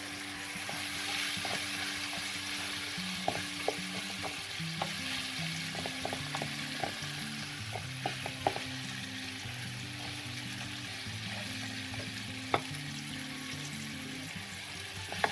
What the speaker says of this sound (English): Throw everything in the pot.